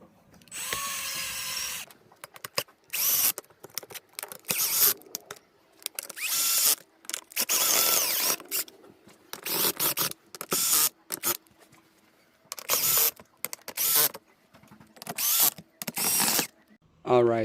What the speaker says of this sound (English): I'm going to be using a drill where you just need like this drill bit, just so it goes a little bit quicker